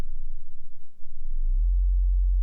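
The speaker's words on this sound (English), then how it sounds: "If we have a really low frequency sound," A deep, low-frequency sine tone hums in, steady and smooth, with no other sounds around it.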